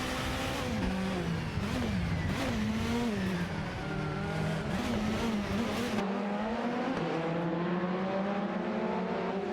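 Racing cars in a video game race, including Nissan Primera 10p and 11p entries, roar continuously with engines revving up and down through gear changes. The engine note is loud and close, steady throughout, with no talk.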